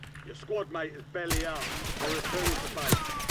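Rapid bursts of gunfire from Call of Duty Warzone, a battle royale shooter game, crack loudly in quick succession over steady game noise, while players talk excitedly over them throughout.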